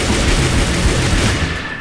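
Rapid gunfire from a shooter video game bursts loudly and densely, a continuous crackling barrage that tapers slightly at the end, with no talking.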